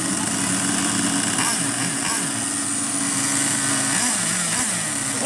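A small high-pitched RC car engine buzzes and whines continuously, its pitch wavering up and down as it revs, with voices talking faintly underneath.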